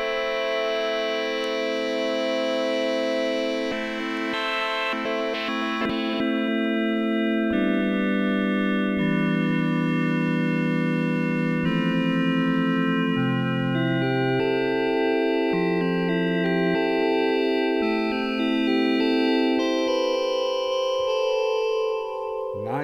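An Arturia MicroFreak synthesizer plays its new WaveUser wavetable oscillator, rich and buzzy, in sustained chords and shifting melodic lines, steady and fairly loud with no talking.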